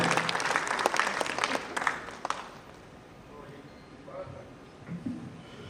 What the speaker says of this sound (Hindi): और इस आग के करीब जोरदार तालियां बजाइए